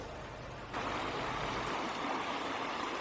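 The Guatitalema River flows in winter, a steady broadband rush of moving water heard close and continuous, with no voices over it.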